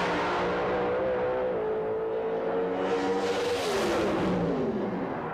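Warren Johnson's white Pontiac Pro Stock drag car makes a run at the Columbus track, a loud, steady high-revving engine roar that climbs through gear changes, heard alone at close range.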